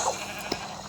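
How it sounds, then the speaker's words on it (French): A sheep in a video game gives one short bleat, faint under a busy background of game noise. "Un mouton, pardon."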